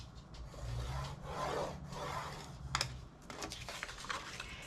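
Paper scraps being scored for a craft project make a soft, close scraping and rubbing that swells and fades in strokes, with a few light taps and clicks, quiet and without talk.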